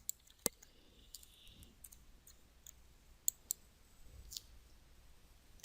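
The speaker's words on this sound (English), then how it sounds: "I'll enter a quantity of 5 for the notebook and click the Add to Cart button." Mouse clicks on an online shopping cart page, a few sharp isolated clicks spread across a quiet background, close and crisp.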